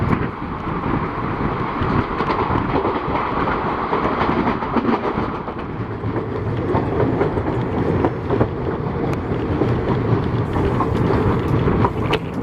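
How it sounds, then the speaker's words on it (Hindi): Empty passenger coach rakes rush past an Intercity SF Express on the Itwari to Bilaspur line near Musra station, India: a loud, continuous rumble and rattling clatter with heavy wind buffeting, close and steady throughout. "ये जो हमें ट्रेन क्रॉस कर रही है ये किसी पैसेंजर ट्रेन के एम्प्टी रैक्स है"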